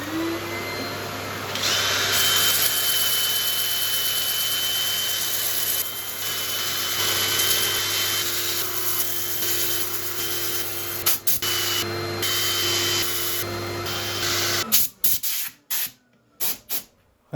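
Oak burl being power-sanded on a lathe, a steady loud whirring and hissing drone with a constant hum underneath, running for most of the stretch before cutting off into a few brief knocks and rustles near the end.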